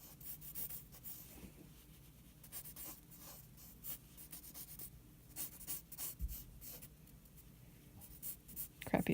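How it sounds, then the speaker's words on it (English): Pencil sketching a shoe on paper during a clothing model study, a soft continuous scratching and rubbing of graphite strokes close up, with a brief louder scrape near the end. "Crappiest shoe drawing ever."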